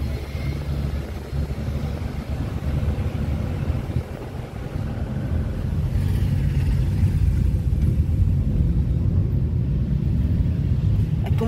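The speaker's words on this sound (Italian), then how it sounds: "sentite il rumore delle moto," Motorcycles rumble in a steady, dense roar as riders gather at a biker fest in Lignano Sabbiadoro by the sea, the engine drone filling the scene and swelling slightly louder toward the end, with no talk.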